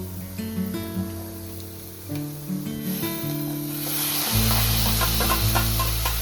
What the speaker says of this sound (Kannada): ಫ್ರೈ ಮಾಡಬೇಕು. ಚೆಂದ ಮಾಡಿ ಗೋಲ್ಡನ್ ಬ್ರೌನ್ ಹಾಕಬೇಕದು.